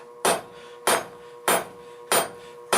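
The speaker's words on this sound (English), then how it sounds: "we're just gonna hammer on one side" Four sharp metallic hammer strikes on steel rebar land at an even, steady pace, each ringing briefly with a bright tone before fading, close by with no talking.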